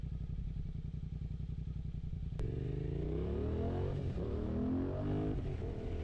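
Suzuki GSX-8R motorcycle fitted with a Yoshimura exhaust, heard from the rider's position: a steady rumbling idle gives way to a loud rising rev and throttle pulls as the bike moves off, with no talk.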